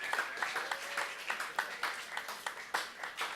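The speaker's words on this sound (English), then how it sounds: "Really, big applause for Rob" Audience members applaud a man named Rob, giving a moderately loud, fairly even run of claps with a few hands standing out over a thinner crowd.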